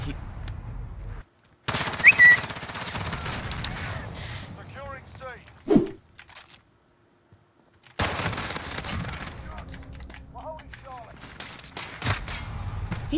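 Akimbo Renetti burst pistols firing in Modern Warfare, dense bursts of gunfire broken by a brief silent pause and then more shots, loud and close, with game sounds and some talk mixed in.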